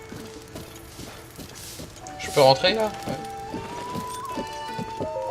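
Horse hooves clip-clopping at a steady walking rhythm in the video game Zelda Breath of the Wild, moderately close, under a player's brief spoken remarks and the game's soft background music.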